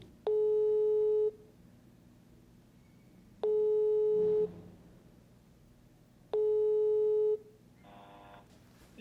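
Telephone call tone: three long steady electronic beeps at even intervals, each about a second, with quiet line hiss between them and a faint garbled burst near the end.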